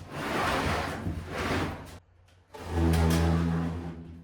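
Drawers of workshop storage in a converted 40-foot shipping container slide open and shut. Two rolling scrapes come before a short pause, then a longer rumbling slide with a low metallic hum, close and loud.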